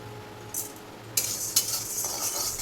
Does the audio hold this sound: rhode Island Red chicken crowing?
no